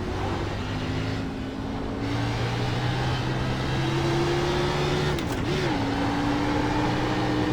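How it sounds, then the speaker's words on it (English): Race car engine in iRacing on an oval, a steady loud droning hum with a sustained tone that shifts slightly in pitch, accompanied by a faint hiss of tire noise, running continuously. "The engine noise is still there, but it's a lot less."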